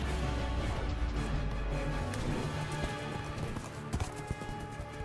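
A horse gallops in a Minecraft animation, with rapid rhythmic hoofbeats over a music bed, ending in a few sharp crashing hits.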